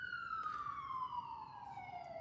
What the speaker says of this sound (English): Seems like an emergency vehicle is passing by now